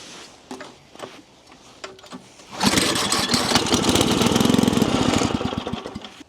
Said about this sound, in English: So start it on the first pull